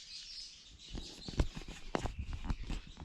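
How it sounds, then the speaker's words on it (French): Sparrows, cardinals and other small birds chirp in fruit trees along a mountain trail on Réunion, scattered short tweets and calls at low to moderate level over faint outdoor background, no talking. "Il y a plein d'oiseaux. T'entends?"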